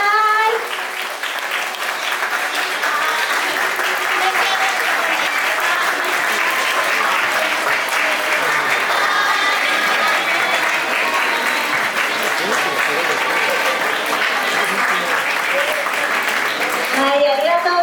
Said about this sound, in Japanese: 皆様大きな拍手でお迎えください。